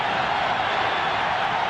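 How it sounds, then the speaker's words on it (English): A basketball arena crowd roars during a Pistons–Lakers game, a dense, steady wall of cheering heard loud and continuous, with a commentator's voice faintly under it. "This crowd's going bananas."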